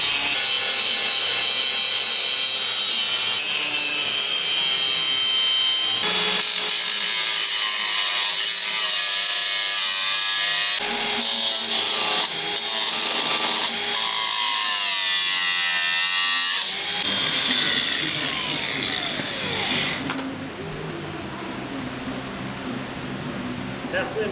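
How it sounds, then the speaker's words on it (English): An angle grinder grinds down old rivet heads on the steel gun shield of an Australian WWI trophy field gun during workshop restoration, a loud, continuous high-pitched metallic whine that shifts pitch and load in several long passes. "First he has to grind down the old rivet heads."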